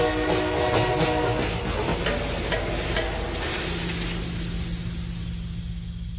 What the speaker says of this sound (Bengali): ঝমাঝম আওয়াজ করতে করতে ট্রেনটা ঢুকল মধুসূদনপুর স্টেশনে